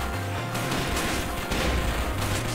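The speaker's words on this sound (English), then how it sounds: "Gosh dang it, those damn turrets" Turrets in the robot video game Circuit Breakers fire in a dense, continuous barrage of rapid, loud shots layered with crashes and booms, with no pause across the stretch.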